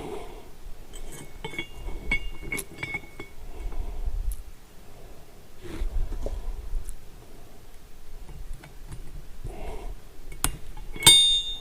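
A stainless steel cotter key is pried open and fitted over a spring during a small parts repair, giving quiet, scattered metallic clicks and light clinks close by over a low background hum.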